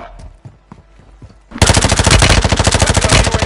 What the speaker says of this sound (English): what guns can you shoot underwater with?